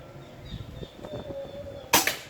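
A single sharp, loud crack from an orange PCP Bocap Pajero Gen 5 air gun firing its fifth and final shot, standing out near the end after a stretch of quiet room noise.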